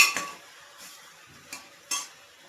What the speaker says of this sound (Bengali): আমি এইভাবে একটু নেড়ে চেড়ে তারপরে জল ঢেলে দেবো